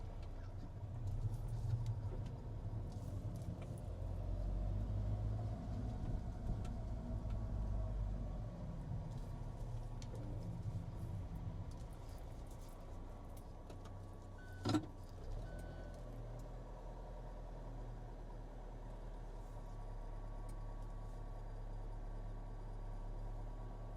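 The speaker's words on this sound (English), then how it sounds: "Now we're going to drive my 2015 Launch Edition car, which is a fully loaded car with a few modifications" A 2015 Alfa Romeo 4C Launch Edition with a few modifications drives along, its low engine and road rumble steady and fairly quiet from inside the car, with one brief sharp click partway through.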